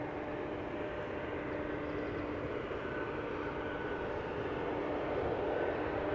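A KLM Embraer 190 arriving at Amsterdam Schiphol from Humberside makes a faint, steady engine rumble and whine at a distance, alone and unbroken.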